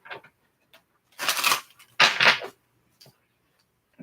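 A deck of tarot cards is shuffled in two short riffling bursts, close and crisp, separated by light taps and handling sounds in an otherwise quiet room.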